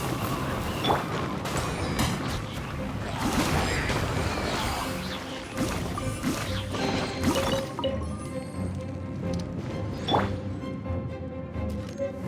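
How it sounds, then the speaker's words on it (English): Explosive barrels are blown up by a shot in Genshin Impact, giving a dense burst of blasts, crashes and shattering debris, loud and close, with further game impacts and effects continuing after it. "Are those explosive barrels over there? Well, one shot should be able to blow them up."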